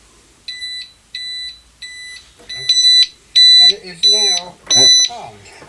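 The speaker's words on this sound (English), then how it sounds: "and it should beep a few times." Oxford Screamer 7 disc lock alarm on a motorcycle arming, sounding a series of evenly spaced, loud, high electronic beeps, about seven in a row, with someone talking over the later ones.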